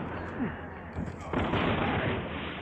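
Gunfire in the video game Resident Evil 6: several sharp shots and booming bursts in quick succession over a rumbling game soundscape, with a voice talking over parts of it.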